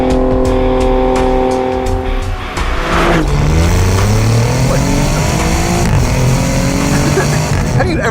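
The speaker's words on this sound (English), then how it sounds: "Have you ever heard a V6 sound like that?" A twin-turbo V6 engine in an Alfa Romeo Giulia Quadrifoglio revs hard and climbs through the gears, loud and close, with a rising snarl, shifts and a brief tire squeal.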